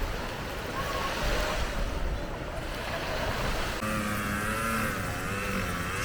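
Atlantic Ocean surf rolls in at Devonshire Bay on the South Shore, a continuous broad wash of breaking waves mixed with wind, heard from some distance, with a faint engine-like drone joining partway through.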